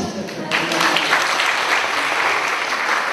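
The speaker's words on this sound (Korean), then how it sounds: "박수 한번 쳐주세요." Audience applause at a family seminar talk, a sudden burst of many hands clapping that starts after a brief lull and continues as a loud, even wash to the end.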